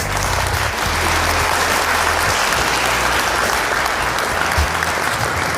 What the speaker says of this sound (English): So everybody give a round of applause for Carly and her In a Nutshell synopsis.